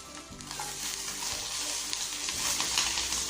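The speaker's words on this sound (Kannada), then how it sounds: "ಸ್ವಲ್ಪ ಫ್ರೈ ಮಾಡಿಕೊಂಡು ಸ್ಟವ್ ಆಫ್ ಮಾಡ್ಕೊಂಬಿಡೋಣ." Tamarind, garlic and cumin sizzle and fry in a pan while being stirred, a steady close crackle with faint scraping and no talk.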